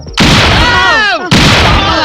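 In a Telugu comedy film scene, a bomb sound effect plays loudly: a descending whistle with a broad roar that cuts off briefly, then a second blast follows.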